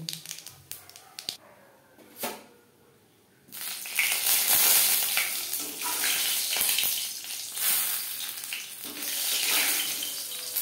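Whole cumin and dried red chillies fry in oil for tempering over a low-medium flame, a sustained hiss and crackle that rises sharply after a quieter start and carries on steadily to the end.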